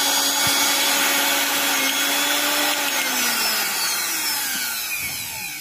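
An electric mixer grinder motor running after its overload switch is pressed, a loud, close, high-pitched whine with a steady tone that slowly drops in pitch as the motor winds down.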